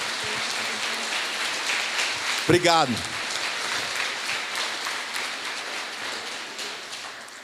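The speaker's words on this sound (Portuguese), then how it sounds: "Você pode aplaudir Jesus?" Church congregation applauding during a sermon, a dense wash of clapping spread across the whole stretch, with a short spoken phrase cutting through near the middle.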